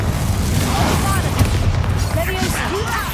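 A Confringo fire spell explodes in the Hogwarts Legacy video game with a loud, booming, crackling blast amid ongoing battle noise, while voices talk over it.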